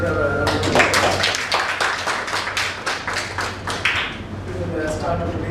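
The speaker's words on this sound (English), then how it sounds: "Please give her a bit of a round of applause" An audience at an income tax educational session claps for a speaker, a dense, steady patter of hand claps that holds throughout at close range, with some voices mixed in.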